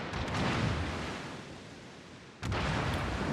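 Naval gunfire in a World of Warships match from two Marceau destroyers, heard as heavy booming salvos that roll into a dense rumble, with a fresh blast near the end, loud and without voices.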